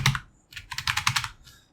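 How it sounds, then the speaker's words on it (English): Quick bursts of keystrokes on a computer keyboard while entering web links into an ASP.NET admin page, close and clear, with short pauses between flurries. "I'm typing in the links manually"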